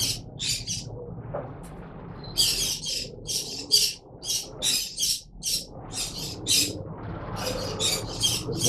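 Pigeons kept for sale at a pet shop in Bangalore, a steady stream of loud nearby squawks and chirps repeating in quick bursts over a low room hum.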